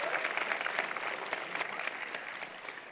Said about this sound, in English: Maybe a round of applause for all the fun we're going to have.